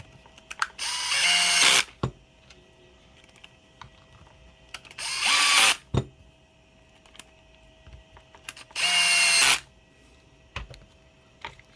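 A torque-set screwdriver with a T15 bit drives screws during repair of a DeWALT 20V Max DCS438 cut-off tool: three separate bursts of close, loud whirring and ratcheting, each about a second long, with quiet gaps and clicks between.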